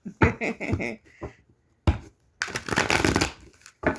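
Tarot cards are shuffled by hand in quick riffling bursts, three separate runs of crisp flapping separated by short pauses, close and clear with no talking.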